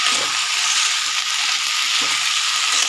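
Small fish cooked with vegetables and mustard leaves, stirred in a pan with a steady close sizzle of frying and faint scraping stir strokes, alone without voices.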